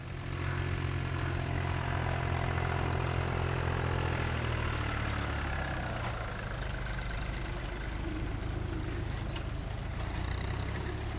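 A tractor engine runs steadily in a field where storks forage, a continuous low mechanical drone with a harmonic hum that stays loud and even throughout, with no voices present.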